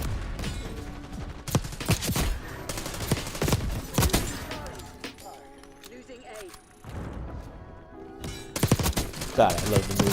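Call of Duty Black Ops 6 gameplay with loud, rapid bursts of automatic gunfire in repeated volleys, a brief quieter lull midway, and mechanical clicks and game effects between shots.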